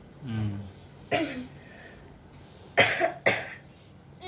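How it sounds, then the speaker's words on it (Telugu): A boy with a cold and a hoarse throat coughs in several short bursts, with two loud close coughs near the end and quieter sounds between them. "దగ్గుతున్నాడు"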